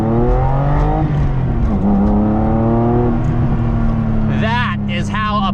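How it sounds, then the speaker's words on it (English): An RWB Porsche with an air-cooled flat-six engine drives hard, its loud, rough engine drone close and steady, rising and falling in pitch through gear changes, while someone talks excitedly over it. "that air-cooled flat six sound is so beautiful"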